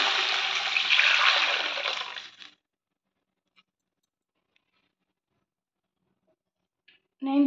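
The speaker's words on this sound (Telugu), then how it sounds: "ఇప్పుడు వాటర్ వేసుకుంటున్నాను." Water from a jug pours into a cooking pan while vermicelli is being made, a steady splashing rush for about two and a half seconds that then stops, leaving near silence until a short voice at the very end.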